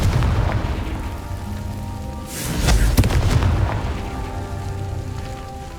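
A Confringo blasting spell explodes in Hogwarts Legacy on PS5, a loud booming burst swelling mid-clip over a rumbling, crackling game soundscape that lingers and fades.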